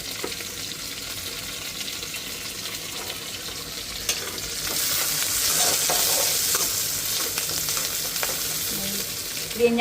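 A tomato dish stirred and frying in a pan, with steady close sizzling and scraping that swells louder partway through and holds, no voices over it.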